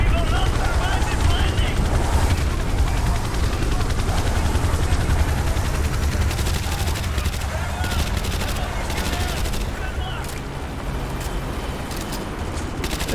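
Relentless automatic gunfire and explosions from Call of Duty: Modern Warfare 2 roar continuously alongside a helicopter's thrum, a loud, dense battle din with no letup.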